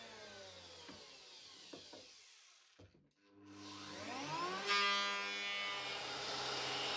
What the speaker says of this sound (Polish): A to urządzenie to ręczna strugarka.